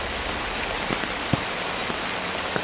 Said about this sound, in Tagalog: Medyo lakas talaga ng ulan. Ang lakas ng ulan mga idol.